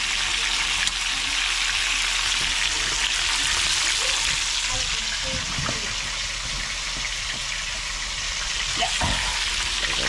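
Fish sizzles steadily in a frying pan with hot oil, a continuous bright crackle and hiss with occasional small pops of stirring, fairly loud and close throughout.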